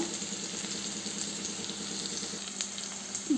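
Okra frying in a pan, a steady close hiss and crackle of sizzling oil that holds level throughout with a few brief louder pops, no talking.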